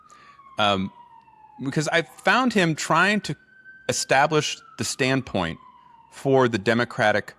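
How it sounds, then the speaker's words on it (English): An emergency vehicle siren wails in the background, a high tone sliding slowly downward, steady under a man's close, continuous speech. "Pardon the siren in the background."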